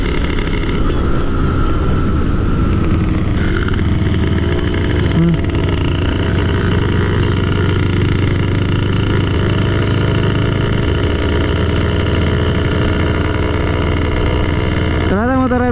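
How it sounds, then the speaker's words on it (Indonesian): A motorcycle engine fitted with a PWK carburetor revs hard and steadily up close, a loud continuous drone with rising pitch near the end, while people talk over it. "Ternyata motor Nizar masih kenceng, guys."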